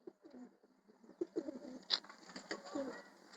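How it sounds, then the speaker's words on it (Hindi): A full gulatiya tumbler pigeon coos softly, low throaty murmurs repeating faintly nearby alongside a few light clicks and rustles. "ये हमारा फुल गुलाटिया कबूतर है"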